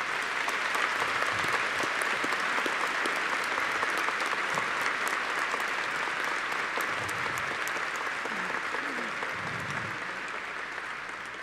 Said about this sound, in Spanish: los recibimos con un gran aplauso.